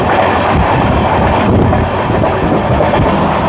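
A Sealdah–Jalpaiguri Road Humsafar Express runs near Beldanga, making a steady, loud rumble with wind rush throughout and no voices.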